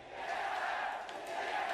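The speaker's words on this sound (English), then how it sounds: "the TSM chants out of the Chinese crowd" A Chinese crowd at a League of Legends Worlds 2017 knockout-stage match chants for TSM, a massed roar of voices filling the arena with swelling rhythmic shouts, steady and fairly loud throughout.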